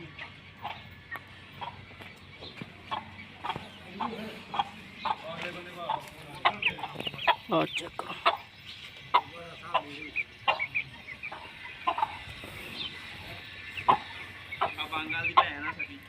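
Punjabi Asil hens and chicks clucking nearby in a yard, a steady run of short clucks and peeps with occasional sharper calls, with background noise throughout.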